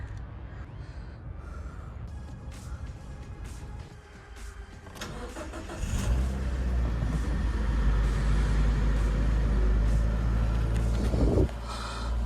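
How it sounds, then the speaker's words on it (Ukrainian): A cold Nissan Qashqai engine idles steadily while warming up, a close, continuous low rumble that grows louder and fuller partway through, with no talking. "Бачите, автомобіль у нас є холодний, прогрівається."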